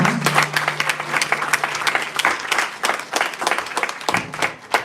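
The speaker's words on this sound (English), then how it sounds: "So please join me in giving them a big, well-deserved round of applause" A Sunday school audience at a Gita Jayanti event applauds a class recitation, with crisp, fairly close claps in an uneven rhythm, loud at the start and thinning toward the end, and a brief voice underneath.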